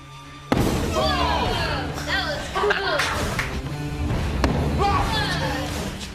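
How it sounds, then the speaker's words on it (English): A balloon filled with hydrogen and air bursts in one sharp, loud bang, followed by a rumbling tail. Voices and other noise carry on around it. "Well, that is quite a big explosion."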